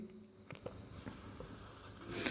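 A pen scratches across paper while writing out a maths solution, quiet short strokes and taps close by with a few brighter scribbling bursts, in a hushed room with no speech.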